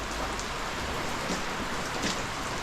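A constant downpour of heavy rain, loud and close, spattering on nearby surfaces in an unbroken wash of sound.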